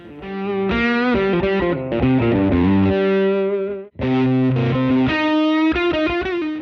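Electric guitar played through overdrive, thick and compressed, with sustained distorted chords and a short gap between phrases.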